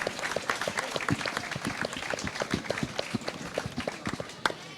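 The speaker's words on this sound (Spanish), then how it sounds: "Primero un aplauso para ellas 2, que van a subir aquí, por favor" Lively applause from an audience at a tribute ceremony as two students come up on stage: dense, fast clapping with sharp individual claps, steady and fairly close throughout.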